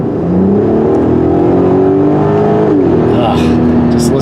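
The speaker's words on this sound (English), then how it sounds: "Just listen to that engine." An Audi A3's engine revs loudly and steadily up close, its pitch climbing, dipping briefly and then rising again in a sustained drone with no talk over it.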